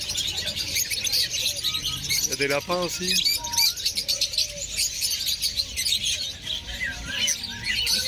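Several small caged birds chirp and tweet at a pet market, quick bright calls overlapping continuously with a brief squawk, while a person talks over them.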